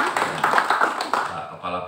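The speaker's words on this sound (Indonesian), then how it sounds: "Tepuk tangan dulu ya" An audience at a formal government gathering claps in brief, uneven bursts, a short scattered round of hand claps that thins out quickly, with a voice nearby.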